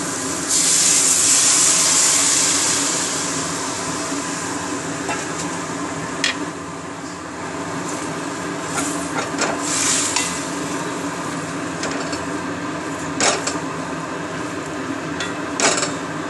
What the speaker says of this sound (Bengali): মশলাটা আমার কষানো হয়ে গেছে, এবার আমি এটার মধ্যে চাউলগুলো দিয়ে দেবো।